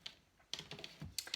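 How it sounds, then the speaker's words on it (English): Radiant Rider-Waite tarot cards being shuffled by hand, close and quiet, with a few soft riffling bursts and light card taps spread unevenly, no voices. "I'm just currently shuffling with the Radiant Rider-Waite tarot deck"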